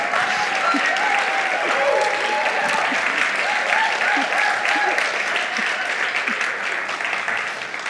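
Applause from a church congregation at the end of a sermon, with many hands clapping in a dense, steady wash. The clapping is loud and sustained for the whole stretch, without a break.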